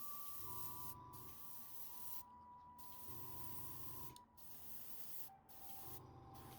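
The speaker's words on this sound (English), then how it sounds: "I'm using an airbrush for speed" An airbrush sprays contrast paint onto a Black Templars Space Marine miniature in short repeated bursts of airy hiss, each lasting about a second with brief pauses between, close and steady with a faint mechanical hum underneath.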